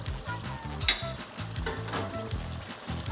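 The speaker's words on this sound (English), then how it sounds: "now it's time to take out the second batch of our second fry" A second batch of Korean fried chicken wings sizzling in frying oil: a steady close bubbling hiss with a few light metal clinks from utensils.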